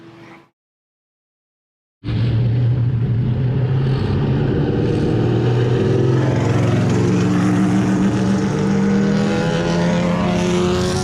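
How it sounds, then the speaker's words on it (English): SCCA race cars idle and rev while lining up at Brainerd International Raceway, a loud, continuous engine drone that kicks in abruptly after a brief silence and holds close by. "you can hear all the cars behind us here lining up"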